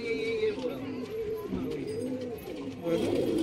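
Pigeons in a breeding loft coo steadily in low, rolling calls, close and continuous, with a dense murmur of birds all through and no talk.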